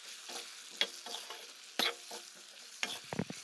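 Meat frying in a pan with salt is stirred, giving a faint steady sizzle broken by a few sharp scraping strokes of the spoon, close up and quiet, with no voices.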